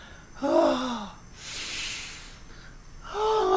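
Two sharp nasal inhales close to the mic, separated by a breathy hiss, then another quick sniff at the end, sniffing a Cuban cigar.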